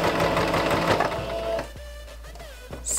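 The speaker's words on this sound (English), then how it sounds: "This will help my machine to sew the piece" Sewing machine stitching a stretch-fabric bodysuit with a stretch needle, a steady close mechanical whir for about a second and a half before it cuts out, then a few brief motor bursts and clicks.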